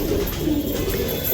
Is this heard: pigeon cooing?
yes